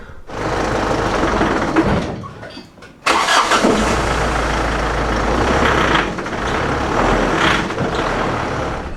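A 2007 Ford Ranger Thunder pickup engine strains loudly and close up while trying to reverse out of a garage, with a sustained heavy roar, a brief dip and sputter, then a renewed hard, labored rev.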